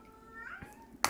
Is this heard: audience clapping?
no